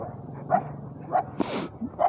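A stray dog barks several times in short, close, fairly loud yips and woofs spaced about half a second apart, with a slightly longer whining bark in the middle.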